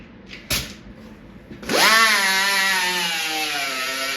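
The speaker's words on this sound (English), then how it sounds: "Hopefully this filler lasts long enough for me to grind it." Angle grinder spinning up and then grinding body filler on a gas pump door, with a loud steady high whine after a couple of soft knocks, close and sustained.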